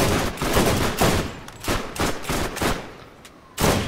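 Rapid bursts of weapon fire in the shooter game Borderlands during a boss fight, several loud volleys with short gaps between them, no talking over them.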